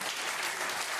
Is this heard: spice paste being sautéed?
no